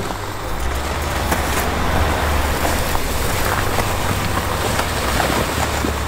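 A Land Rover Defender engine revs hard while driving off-road, giving a steady loud roar with dense broadband noise that holds for several seconds, close and continuous.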